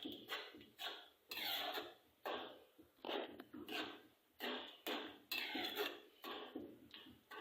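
Repeated scraping and clinking of a utensil against a pot of pav bhaji vegetables with peas, in short bursts with brief pauses, close by and moderately loud.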